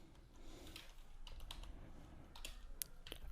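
Quiet, irregular clicks of typing code on a computer keyboard, close and alone, in uneven bursts of keystrokes.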